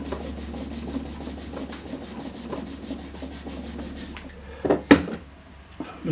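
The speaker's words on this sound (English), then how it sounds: "I'm going to finish off now by just rubbing it back again." Steady, rhythmic rubbing strokes over a wetted cane reed slip, close and fairly loud, with a few sharper scrapes and knocks near the end and no talking.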